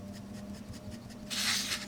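A Majohn T5 fountain pen with a very fine nib hatching lines on paper: faint, close scratchy strokes in a soft rhythm, ending in one longer, louder stroke.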